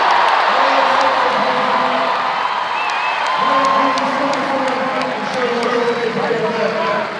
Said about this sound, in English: Let's keep cheering on Rebecca.